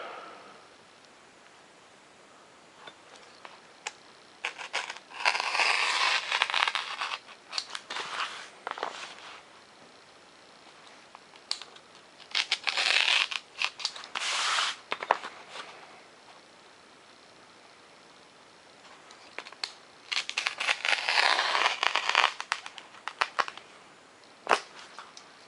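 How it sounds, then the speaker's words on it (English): Blade slicing through printed paper model plans for a Fokker DR-1 triplane, cut straight along the lines after the hinge line is scored; bursts of scraping, rustling cutting come in several runs separated by near-silent pauses, close and with no talk. "Go ahead and just straight cut out the rest."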